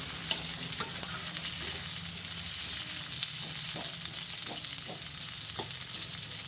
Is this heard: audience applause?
no